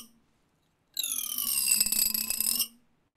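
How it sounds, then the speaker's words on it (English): A rapid buzzing rasp from a fingertip dragged across comb teeth, lasting under two seconds, close and fairly quiet against silence. "All you need to do to make this comb into an instrument, have a comb and your finger"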